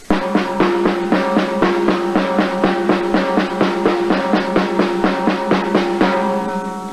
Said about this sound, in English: The next one is the double stroke roll.